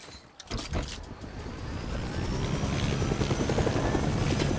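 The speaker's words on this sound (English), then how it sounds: "Right, I'm getting back to the chopper." A video game helicopter starts with a few sharp clicks, then its rotor thrum swells into a steady, rapid chopping drone that fills the rest of the stretch.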